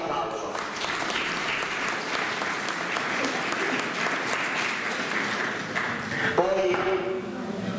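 A crowd at an outdoor living nativity event in Panettieri breaks into sustained applause, dense and continuous for several seconds, with a voice briefly cutting in near the end.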